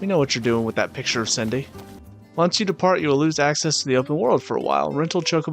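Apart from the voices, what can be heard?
No distinct noise like a dog, phone or traffic.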